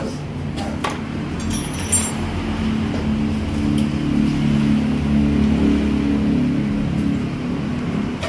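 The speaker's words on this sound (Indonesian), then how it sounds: "kita tes dulu kondisi top mesinnya" A Honda Vario scooter engine fitted with a racing camshaft idles and revs in a low, steady rumble, rising slightly midway, with occasional metallic clinks nearby.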